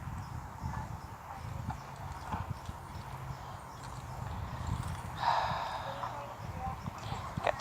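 A horse's hooves clip-clop unevenly at close range, broken by a short snort partway through, quiet overall and with no talking.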